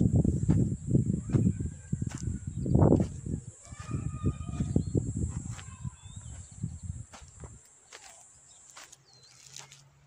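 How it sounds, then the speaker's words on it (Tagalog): Chickens clucking and calling nearby, with footsteps and rustling in the foreground and a steady high insect-like drone in the background. "Oh, I found chicken."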